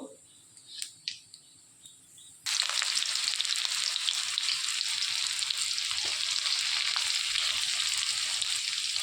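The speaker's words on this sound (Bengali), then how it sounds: "ফোড়নটা একটু ভাজা ভাজা হয়ে এলে কোচানো পেঁয়াজটাকেও দিয়ে দেব।" Chopped onion hits hot oil with dry red chillies and cumin seeds in a wok, bursting into a loud, sustained sizzle and crackle after a few quieter pops and clicks at the start.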